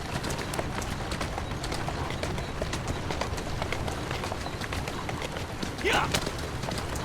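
Horse hooves clip-clop in a steady trotting rhythm on a street in the game Assassin's Creed Syndicate, set in Victorian London, moderately loud and continuous, with a brief voice and a bird call near the end.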